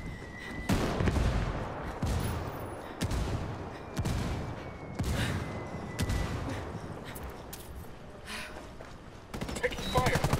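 Gunfire in Ghost Recon Wildlands, with rapid rifle shots cracking in quick bursts roughly every second, loud and close, alternating with brief pauses and a final flurry of shots near the end.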